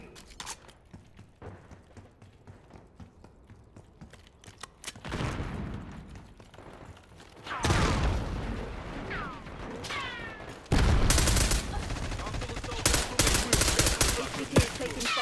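Dense gunfire and machine-gun bursts in Call of Duty: Black Ops 6, growing louder after the first few seconds with sustained rattling volleys and impacts, mixed with game effects and a voice.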